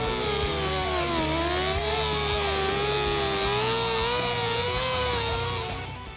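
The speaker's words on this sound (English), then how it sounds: "now I want to grind out a small groove in this joint to ensure a strong weld" A power grinder cuts a groove into a rusty metal joint on a Fox Body Mustang, a loud continuous whine with a wavering pitch that runs steadily for about six seconds before easing off.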